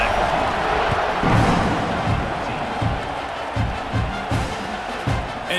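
A football stadium crowd roars steadily as the kickoff unit takes the field in a close 17-14 game, a dense, loud wash of cheering with scattered thumps and shouts throughout.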